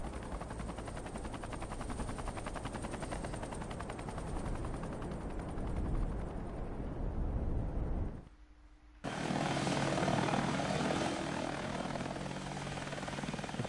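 Combat helicopters in the Vietnam-era video game Air Conflicts: Vietnam give a loud, continuous rotor drone mixed with gunfire, which cuts out briefly near the end before roaring back.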